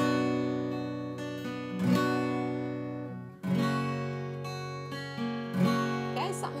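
An acoustic guitar plays a beginner pattern, alternating picked single notes with three full strums at an even pace, quiet and close up with no talking.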